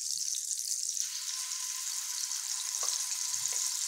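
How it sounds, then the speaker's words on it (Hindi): Masala-marinated fish fries in hot oil in a kadhai, giving a steady, close hiss of sizzling spread evenly through the whole stretch, with a couple of faint soft clicks near the end and no talking. "अब मैं इसे फ्राई कर दूँगी।"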